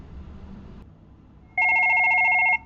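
A Fanvil desk phone rings with an inbound call: a faint background hum gives way to one loud, close electronic ring burst of rapidly warbling tones lasting about a second, with no talking.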